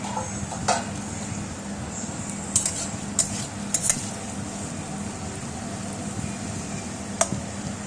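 Metal utensil tapping and scraping in a pan of cooking potatoes with ridge gourd, a few sharp clinks scattered over a steady low sizzle and background fan hum, no talking.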